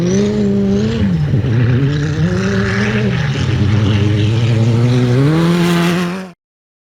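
The ex-Glen Owen Rimco off-road bean buggy races past, its engine loud and close, rising and falling in pitch as it revs and shifts, then cutting off abruptly at the end.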